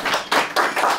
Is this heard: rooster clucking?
no